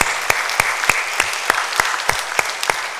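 A church congregation claps in unison after an evening worship service, about ten sharp, loud, evenly spaced claps in a steady rhythm with no talking.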